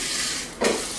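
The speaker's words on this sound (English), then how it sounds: "Get that rice frying." Steady sizzling of rice frying in a pan, with a brief louder burst of hissing partway through as something is stirred or added.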